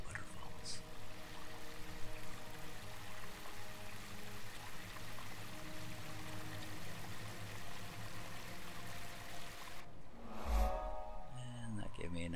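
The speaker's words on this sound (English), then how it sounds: "Lovely waterfalls." A waterfall in the Guild Wars 2 game pours in a steady, broad rush that continues evenly for several seconds before it suddenly drops away.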